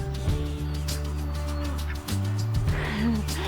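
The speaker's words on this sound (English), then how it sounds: "Do you know what sound a duck makes?" Ducks in a cardboard fort on a farm call out in short bursts over a steady low drone, fairly close and loud.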